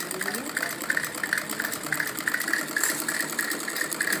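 A sewing machine runs steadily, stitching a half-inch seam joining salwar panels, with a fast even mechanical whir and rhythmic ticking close by.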